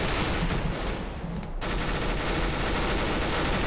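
Dense automatic gunfire from Counter-Strike: Global Offensive during a gun game match, a loud continuous fusillade that briefly thins out for a moment before resuming at full intensity, with no voices over it.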